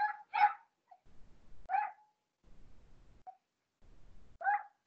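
A small dog barks sharply about four times, loud and close, with quiet pauses between the yaps.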